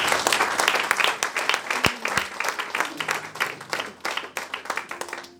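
A church congregation applauding the Lord, dense sustained clapping from a crowd that gradually thins into scattered claps, with a faint voice underneath.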